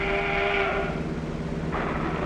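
A train rumbles by with a steady low roar and a sustained whistle-like tone, heard from nearby over constant 1946 bus engine noise.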